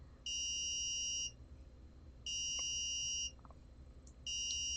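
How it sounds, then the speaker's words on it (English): An Arduino-driven electronic buzzer sounds a steady 1 kilohertz tone in one-second beeps separated by one-second pauses, three times, over a quiet background. "have the buzzer going off"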